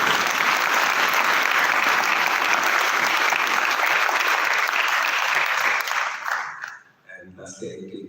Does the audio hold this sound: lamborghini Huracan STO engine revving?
no